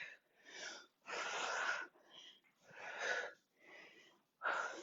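Loud, heavy exercise breathing during a timed Tabata circuit with a band and weights, coming as a run of strong rhythmic breaths with short pauses between them, close to the mic.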